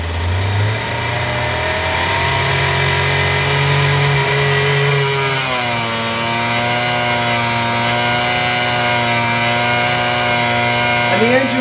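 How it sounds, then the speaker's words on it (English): A Galaxy 125 race engine revs steadily on a water-brake dyno, its loud buzzing tone dipping and settling as load comes on around the middle, then holding a constant pitch before a brief rise at the end. "So you can hear the free revs pretty easily, but if we hold the accelerator down, the load's going to come on."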